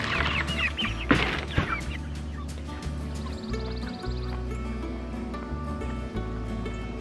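Chickens in a mobile chicken tractor cluck in short bursts over a steady low hum and background music, with a busier flurry of clucking near the start.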